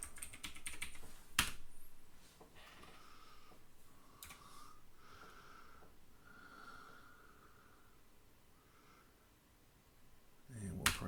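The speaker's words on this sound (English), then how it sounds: "the first thing you have to do is type I agree in all caps" Keys tapped on a computer keyboard while typing in a Windows malware-removal tool, a few separate clicks and short bursts over a quiet background with breathing-like noise, with a louder clack near the start and near the end.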